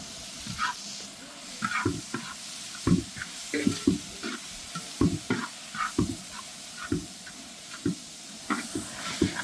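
Onions and tomatoes frying in a pan for vegetable salna, a soft bed of sizzle under repeated close scraping and tapping of a spatula in an uneven rhythm, with no voices.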